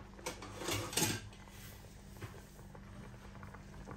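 A metal pot lid is searched for and handled in a home kitchen, giving a few clanks and rattles early on, then quiet rummaging, all faint and close.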